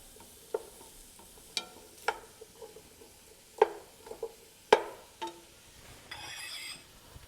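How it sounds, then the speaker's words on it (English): Sweet potatoes and mushrooms sautéing in a pan, a soft sizzle broken by sharp scraping clacks of a utensil stirring the food, several distinct strokes over quiet frying, close and alone. "Now that that's started to saute,"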